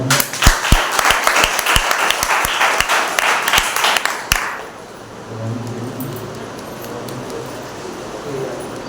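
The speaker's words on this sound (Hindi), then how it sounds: "आइए एक बार माताओं के लिए एक बार 2 तालियां हो" A church congregation applauds for mothers at a Mother's Day service, a loud burst of sharp claps that stops abruptly after about four seconds, leaving a quieter room with low murmuring.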